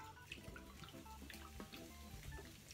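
Desperados beer pours from a bottle into a pan of vegetables being cooked, a faint, steady gurgling stream with light fizzing, heard alone without talk.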